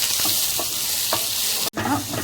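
Garlic, curry leaves and onion sauté in hot oil in a pan, a close, continuous sizzle with a few spatula scrapes and a brief knock near the end.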